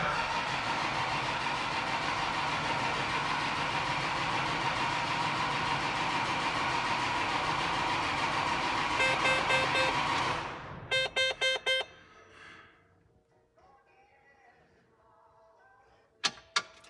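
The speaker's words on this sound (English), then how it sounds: "9670 motor is installed. We're going to give it its first start." A John Deere 9670 combine engine, freshly overhauled, drones steadily at close range for about ten seconds, then winds down and stops, followed by a few sharp clicks and a quiet stretch.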